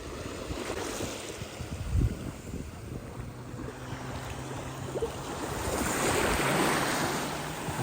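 Sea waves wash onto a beach in a soft, continuous surge with wind buffeting the microphone, the swell building louder toward the end.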